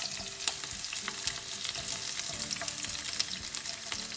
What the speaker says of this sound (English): I've got some oil, and I'm just going to cook the onions and peppers in there